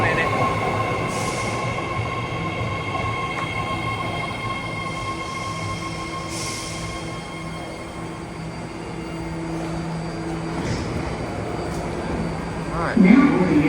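A BART Green Line train bound for Daly City rumbles steadily with a continuous low drone and faint tonal hums, heard from close by, with a brief squeal near the end.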